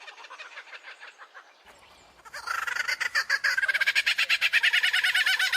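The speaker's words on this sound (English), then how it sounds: "It is the superb lyrebird" A superb lyrebird calls, starting faint and distant with soft chattering, then swelling into loud, rapid repeated notes and cackling bursts close by, with no voices.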